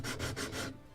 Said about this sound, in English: this is probably also one of the dusty part of building, sanding